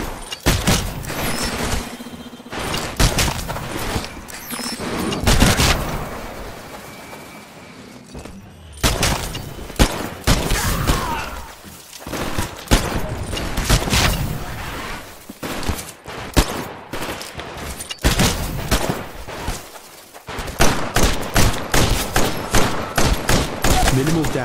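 Rapid bursts of gunfire from a live-fire training exercise in the Titanfall video game crackle almost continuously, with dense automatic volleys and occasional heavy thumps, loud and close throughout.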